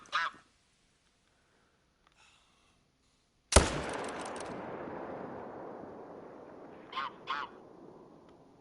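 A single sharp rifle gunshot rings out at a whitetail deer in theHunter: Call of the Wild, a loud sudden crack followed by a long rolling echo that fades slowly, with a couple of faint bird-like calls near the end.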